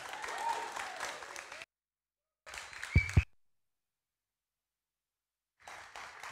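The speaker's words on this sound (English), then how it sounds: "Another round of applause for Jonah, ladies and gentlemen." An audience applauds at a live-broadcast stage event, Connect 2022. The clapping comes in choppy bursts separated by stretches of dead silence, with a thudding knock in the middle.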